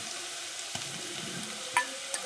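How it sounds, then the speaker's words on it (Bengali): Onions fry gently in a pan without browning, producing a low, even sizzle close by, with a few sharp clicks and scrapes from stirring. "পেঁয়াজটা খুব লাল করে ভাজবো না, এরকম সেদ্ধ সেদ্ধ ভাজা হবে।"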